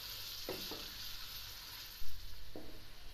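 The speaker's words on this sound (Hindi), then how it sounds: "इसमें प्याज डालते हैं हम। 1 कप ऑयल है, इसमें डाल देते हैं। अब ये ब्राउन होगा," Onions frying in a cup of oil for chicken biryani give off a soft, steady sizzle, faint and close, with a few light stirring clicks and a small bump partway through.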